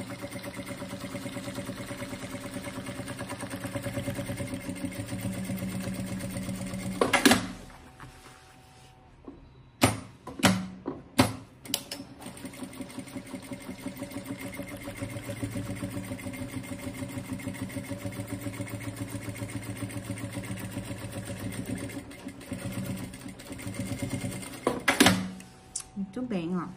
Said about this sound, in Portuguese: Coloca o ponto mais largo da sua máquina e faz o pescoço